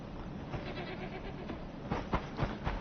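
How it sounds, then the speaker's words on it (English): Mountain goats on a farm in the video game Enshrouded give several short bleats close by, the clearest coming in quick succession near the end over a steady background hum. "And we got our mountain goats."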